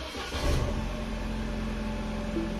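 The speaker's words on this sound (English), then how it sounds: "let's try this again with the new starter. And it starts right up, no issues." A 2009 Mini Cooper engine fitted with a new starter cranks briefly and catches, then settles into a steady, even idle, heard close with no voices.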